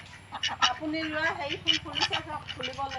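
Ducks resembling Khaki Campbells quacking and honking near a rural home, a series of nasal calls in quick bursts, close and clear, with a person talking over them.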